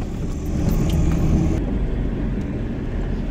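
A car on the road gives a steady, loud rumble from inside the cabin, continuous throughout with no talking.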